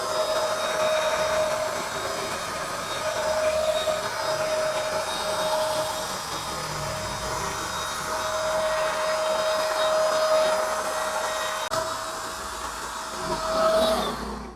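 A Hasston electric paint spray gun running continuously, a steady loud motor whine with a high humming tone, close by and alone for over a dozen seconds before a slight surge at the end.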